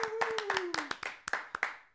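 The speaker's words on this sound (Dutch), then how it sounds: "Applaus!" Scattered hand claps, roughly a dozen sharp irregular slaps packed into two seconds, close and moderately loud, with a faint whistling tone gliding downward beneath them.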